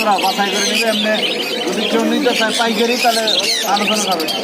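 Budgerigars chirp and chatter continuously in a busy, overlapping flock, loud and close, with no pauses in the twittering, at a bird market in Mirpur.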